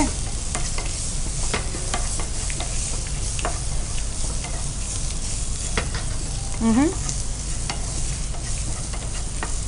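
Fish coated with turmeric and cumin fries in a pan with a dense, crackling sizzle, broken by repeated sharp taps and scrapes of a spatula, close and loud with no talk.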